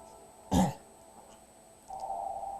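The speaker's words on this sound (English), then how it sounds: "Cough and snob cough." A single short cough from a character in the video game The Darkside Detective bursts out near the start, followed by quiet background and a steady hum that rises later.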